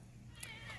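A cat meows briefly and faintly in an outdoor vegetable garden, heard as a short, soft call over low background hum.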